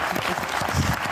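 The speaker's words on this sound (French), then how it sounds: "On vous applaudit très fort" Studio audience applause on a French television word game show, a short, dense wash of clapping that stays steady and loud the whole time.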